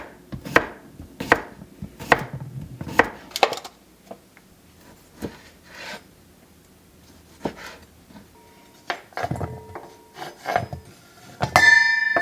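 A knife chops through tomato on a cutting board for a salad with feta and pickled onion, a series of sharp separate cuts with pauses, close and fairly loud, ending in a brief clatter.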